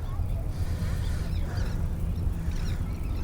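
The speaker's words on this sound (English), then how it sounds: "All the sounds of the birds and just the water" Waterfowl, ducks or geese, honk and quack faintly beside water along a bike path, set against a steady outdoor rumble of wind and ambient noise.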